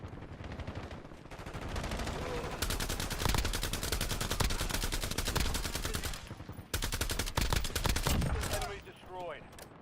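Rapid automatic gunfire in a shooter video game, a loud sustained burst of dense repeated shots that breaks off briefly and resumes, with no talking over it.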